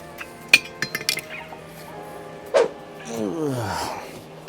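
A metal wheel weight is pried off a tire rim on a Harbor Freight tire changer, giving a few sharp metallic clinks and taps close by, with a brief voice sound in between and some shuffling afterward.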